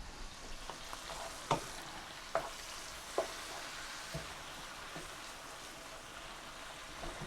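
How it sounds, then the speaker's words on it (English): Pork tenderloin browns in a hot pan with a steady soft sizzle, broken by a few sharp crackles and spatters that come close together early and then thin out. "So this is cooking nicely. We need to brown the meat."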